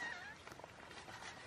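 A mother cat out in a residential neighborhood gives a faint, brief meow near the start, followed by quiet background rustle.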